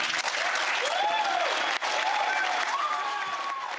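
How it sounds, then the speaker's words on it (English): Sustained audience applause at the Winter Soldier gathering of veterans. A thick, steady wash of clapping runs the whole way, with voices rising and calling out above it. "to the applause of attendees at Winter Soldier"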